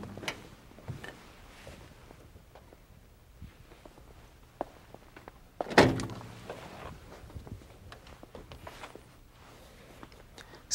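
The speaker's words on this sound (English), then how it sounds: "dual rear doors that swing a full 270 degrees" Quiet clicks and handling noises, then a loud metallic clunk and creak as a Sprinter van's heavy rear door swings open, followed by softer rattles.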